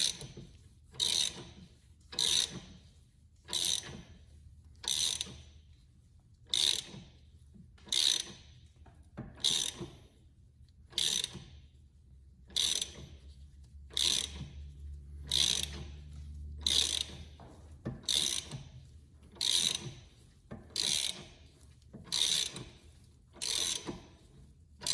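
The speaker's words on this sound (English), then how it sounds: "go ahead and grab your ratchet. And finish pushing the bushing through." Ratchet clicking steadily as it drives a suspension bushing through on a 2019 Dodge Challenger R/T during a lowering-spring install, close and clear, in repeated bursts of rapid pawl clicks separated by short pauses.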